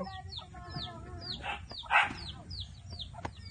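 Chickens cluck and chirp in short, repeated calls close to the microphone, with a louder squawk near the middle and low background noise underneath.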